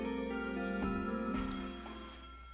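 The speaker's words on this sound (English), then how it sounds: "And then the phone rang." A telephone rings in the visual novel World End Economica, a bright electronic trilling tone with layered harmonics, close and clear, tapering off toward the end.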